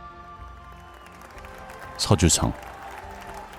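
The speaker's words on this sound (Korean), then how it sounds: "유비가 행차를 나설 때면 백성들은 환호를 멈추지 않았다" A crowd of townspeople in an audio drama cheers and claps in a short, loud burst, swelling briefly and fading, set against a quiet backdrop with a spoken line before it.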